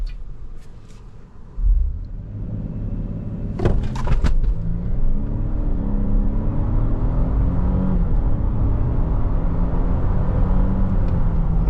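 A 2026 Toyota LandCruiser Hybrid 300 Series launches hard from a standstill in Sport S+ mode, its engine note climbing through steady, rising revs that build into a sustained loud in-cabin roar after a few sharp clicks.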